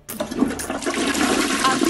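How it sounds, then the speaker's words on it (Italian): A toilet flushes close by in a sudden burst of rushing, gurgling water that keeps going to the end. "Ha tirato anche lo sciacquone"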